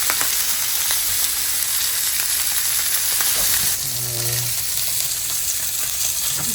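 Food sizzling in a pan: a steady, close, crackling hiss runs throughout, quieting slightly about halfway, with a short low tone near the end.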